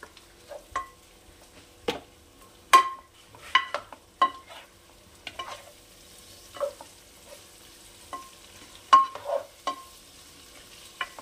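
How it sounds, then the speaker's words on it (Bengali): Egg, meat and fish pieces for fried rice being stirred in a pan, with intermittent scrapes and knocks of a utensil against the metal, separated by quiet pauses and only a faint sizzle underneath. "এবার এগুলো আর একটু নাড়িয়ে আমি কুক করে নেব।"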